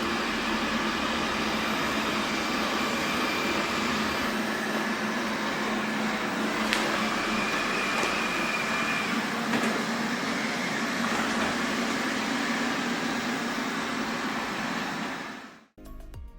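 A 360 S9 robot vacuum cleaner runs steadily across a home's floors, moving from hardwood onto carpet, giving a continuous close whirring hum with faint clicks, then cutting off abruptly near the end.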